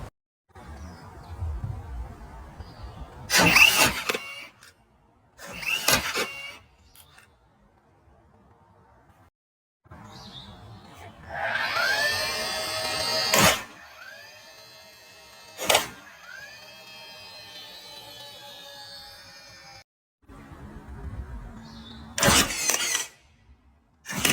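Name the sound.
nail gun firing nails into wood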